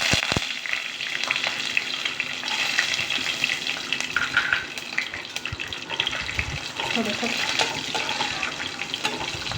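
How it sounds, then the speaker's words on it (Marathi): Peanuts frying in hot oil with mustard seeds and cumin, a loud continuous close sizzle with spatter pops and occasional scraping of a spoon, no talking over it. "आता हे काय होतं ह्या तेलामध्ये छान मस्त असे हे आपले शेंगदाणे तळले जातात"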